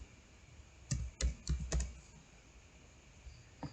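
Several quick key presses on a computer keyboard as a username is typed, a short cluster of clicks close to the microphone followed by near-silence.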